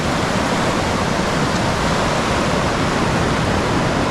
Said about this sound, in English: That's some big waves.